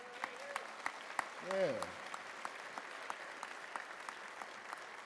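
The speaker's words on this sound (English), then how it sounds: "You can give a round of applause for that." An audience at a city council event gives scattered, fairly faint applause, a sparse run of separate claps with a short spoken word from someone partway through.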